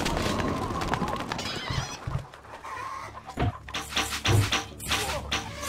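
Horses whinny loudly amid a busy Stronghold Crusader game soundscape with clucking chickens and clip-clopping hooves, layered over background music and effects.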